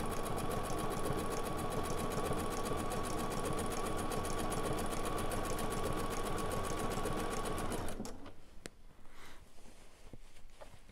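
A sewing machine runs steadily for about eight seconds, stitching down quilt binding in a fast, continuous buzzing whir, then stops, leaving a few faint clicks and handling sounds.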